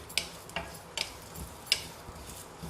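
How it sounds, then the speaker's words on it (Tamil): Ginger and cumin sautéing in hot oil in a pan, a faint soft sizzle with a few sharp stirring clicks and taps, quiet and close, no talking. "எண்ணெய் சூடானதுமே அதில் இஞ்சியும் சீரகத்தையும் போட்டு வதக்கிக்கலாம்."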